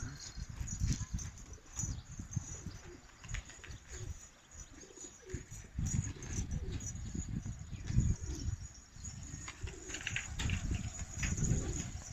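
Elvan pigeons cooing in a loft, a steady low warbling chorus running continuously at moderate loudness, with soft background rustle and no clear speech.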